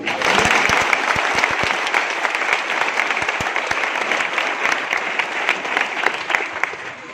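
Loud, continuous audience applause at a career guidance program, a dense crowd clapping for several seconds with distinct individual claps popping out near the start before it gradually thins.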